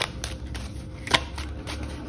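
Tarot cards being shuffled make soft, close riffling and sliding sounds with a brief sharper snap partway through.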